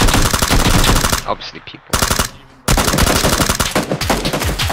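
Rapid machine-gun fire in a video game, loud and close, bursts dense and continuous with a brief break near the middle, while players talk over it.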